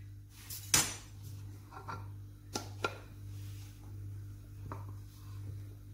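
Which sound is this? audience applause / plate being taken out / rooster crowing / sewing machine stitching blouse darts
plate being taken out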